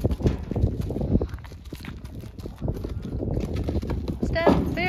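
Horse hooves clip-clop in a steady walking rhythm close by, with people talking over them and a horse's whinny near the end.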